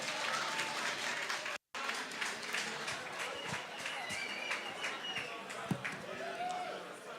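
Audience applause at the MTN Bushfire 2022 festival launch, a steady broad wash of clapping with crowd noise for the Total Energies managing director, continuous apart from a brief dropout.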